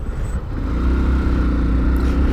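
A motorcycle pulls away from a traffic light, its mid-pitched engine note rising and swelling loud and close as it accelerates, steady and unbroken with no talking.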